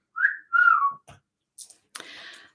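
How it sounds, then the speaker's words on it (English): A two-note wolf whistle rings out clearly, a rising then falling tone, followed by brief clicks and a short hiss, during a bingo number call. "Don't forget to give a wolf whistle."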